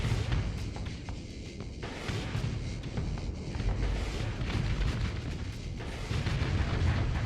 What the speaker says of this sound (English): so there's some missiles going off